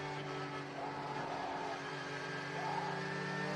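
Number 77 Porsche GT3 R race car at Laguna Seca crossing the finish line, a steady loud engine drone with a slight rise in pitch, over faint background crowd and commentary noise.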